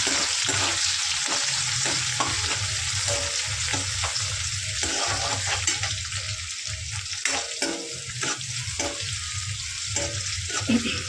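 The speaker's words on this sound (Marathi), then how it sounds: "तेजपत्ता टाकूया, कांदा टाकू आणि ह्याला चांगलं परतून घेऊया" Chopped onion and bay leaf with cumin sautéing in hot oil in a pan, a steady close sizzle with stirring scrapes and light clatter, continuous and loud throughout with no voices.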